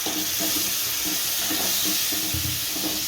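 Water is added to a hot pan of stuffed drumstick curry: steady, loud hiss of steam and sizzling, with faint bubbling underneath and no talking.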